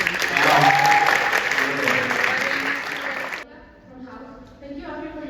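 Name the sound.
audience applause at conference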